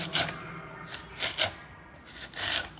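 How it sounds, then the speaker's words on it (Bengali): Raw mangoes rubbed on the large side of a grater in a kitchen, giving three close, rasping scraping bursts with short pauses between them. "সব থেকে বড় দিকটা দিয়ে আমি আমগুলোকে গ্রেট করে নেব।"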